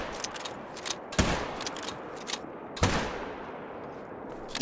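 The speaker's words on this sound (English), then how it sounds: "figured I'd take a shot at it" Two loud rifle shots taken at a bear in the hunting game theHunter: Call of the Wild crack about a second and a half apart, each trailing off into an echoing decay over steady outdoor ambience.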